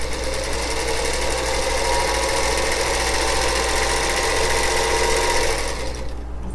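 A sewing machine runs steadily, stitching fabric pieces together with a continuous loud mechanical hum and rapid needle rhythm, then stops abruptly near the end.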